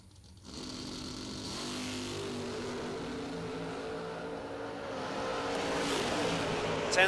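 Drag racing cars, one of them a Corvette, launch at a half-million-dollar race event in a loud sustained engine roar that rises and holds, with a steady rumbling drone throughout.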